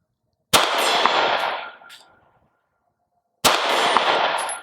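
Two sharp 9mm pistol shots from a Sig P365 Gen 2 at a steel plate rack, spaced a few seconds apart, each a loud crack followed by a long ringing decay; no talking.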